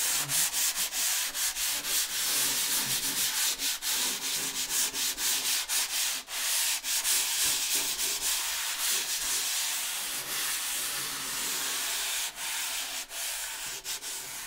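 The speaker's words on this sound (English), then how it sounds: "I'm going to be using the 150 grit sandpaper that I talked about earlier" Hand sanding of an interior closet wall with 150 grit sandpaper makes a loud, close, continuous rasping scrub in steady back-and-forth strokes with brief pauses, and no one speaks.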